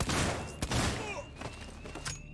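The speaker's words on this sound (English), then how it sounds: "I swear down if the alien heard them gunshots." Gunfire in the survival horror game Alien: Isolation, a few sharp loud shots with a heavy burst at the start and further reports trailing off, close and punchy over the game's ambient sound.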